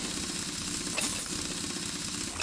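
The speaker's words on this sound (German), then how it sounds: "das schraubt ja noch langsam" A bolt is unscrewed with a power wrench in the Car Mechanic Simulator 2021 video game, a steady loud mechanical whirring rattle that carries on without pause.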